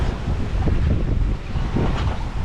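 Wind blowing steadily at sea aboard a sailboat, a loud low roar and microphone buffeting mixed with the wash of waves against the hull, continuous and close, with no voices.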